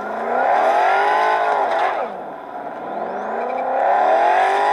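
A car engine in a racing video game revs and accelerates, loud and continuous with rising and falling pitch sweeps through gear changes and a brief dip mid-way.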